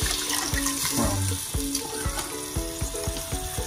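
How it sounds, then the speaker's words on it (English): Chicken broth and then water pour into a pot of collard greens, with a bubbling, splashing liquid sound and a run of sharp little splashes and clinks, heard close with no talk over it. "we'll add some of our broth and then water"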